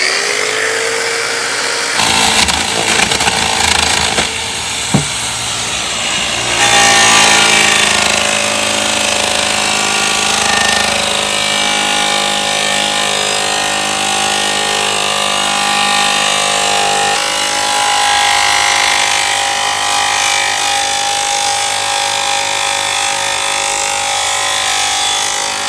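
An abrasive pinwheel grinds metal for heavy material removal, giving a loud, harsh, continuous roar close to the microphone that runs steadily for the whole stretch with no talking.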